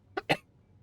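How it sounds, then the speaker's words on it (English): Two quick, close coughs from a person, the second stronger than the first, followed by quiet. "I thought my cough was gone, but there we go."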